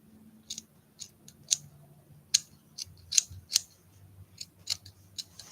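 Scissors snipping through paper while cutting out an art doll, a string of sharp, close, irregular clicks and cuts spaced a fraction of a second to a second apart.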